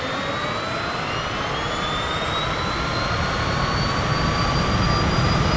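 A jet engine throttling up in Microsoft Flight Simulator, a loud steady roar with a high whine that rises slowly in pitch throughout.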